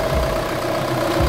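The 2.9-litre turbo diesel engine of a 2004 Kia Carnival idles with a steady low rumble and a constant mid-pitched hum, close and fairly loud.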